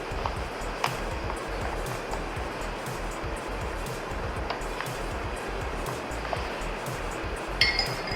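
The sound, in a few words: stirring Tang drink powder in a glass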